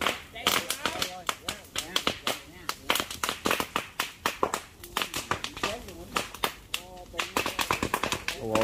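Burning bamboo clump with a large ground-bee nest in the Mekong Delta countryside, cracking in rapid, irregular sharp pops and bursts, loud and close, with people talking over the steady crackle.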